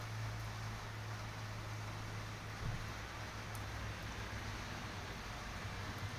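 Steady, quiet rain falling outdoors in Medjugorje on a spring morning: an even, continuous hiss with a low rumble beneath and no voices.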